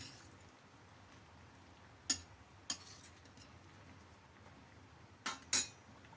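A metal spoon clinks sharply against a cooking pot a few times as the food is stirred, scattered and faint over a quiet background hiss.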